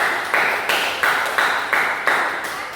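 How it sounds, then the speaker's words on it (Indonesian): Rhythmic clapping in a steady group beat in a classroom, about eight even bursts over a few seconds, bright and close, with no voices. "Berikan tepuk tangan untuk"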